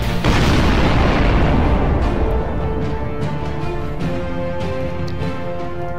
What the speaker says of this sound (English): Sunrider kinetic strike on the rearmost prism. The attack is successful.